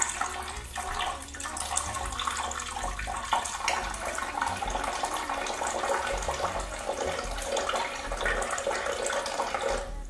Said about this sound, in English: Now we're gonna add 8 ounces of water.